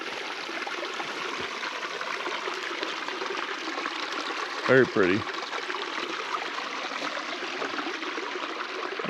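Creek water flowing steadily through a wooded wilderness area, a constant soft rushing trickle heard close by, with a voice briefly speaking over it midway.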